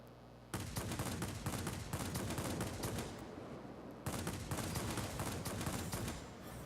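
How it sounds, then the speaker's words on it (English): Rapid aircraft machine-gun fire in a flight combat video game, with two long, loud, continuous bursts of fast rattling shots close up, split by a brief gap. "I'm doing some outstandingly bad shooting"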